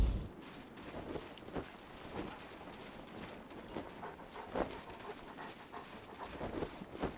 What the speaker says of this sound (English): Where is that dog? I can hear it.